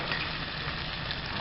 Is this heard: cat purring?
no